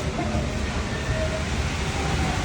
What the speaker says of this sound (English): We're in the metro on our way to the Louvre.